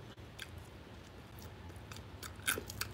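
Crunchy fried food is chewed up close, with a few sharp crackling bites over quiet background noise.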